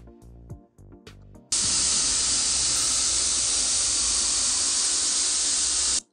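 Loud, steady broadband hiss of vintage old TV static bursts in after a short stretch of quieter sound and holds unbroken for about four and a half seconds before cutting off abruptly.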